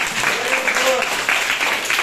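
Children in a classroom number lesson clap for a classmate, a busy burst of small hands filling the room while a voice speaks over the clapping.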